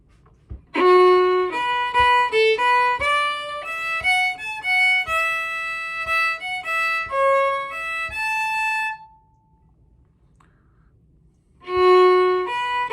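A bright melodic instrument plays the first bar of the slide An Chóisir, the house party, as a quick run of lively single notes for several seconds, pauses briefly, then starts the phrase again; close, with no talking.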